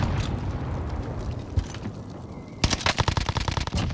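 Rapid gunfire rattles in a first-person shooter video game, with scattered shots early on, then a dense burst of automatic fire near the end, loud and close.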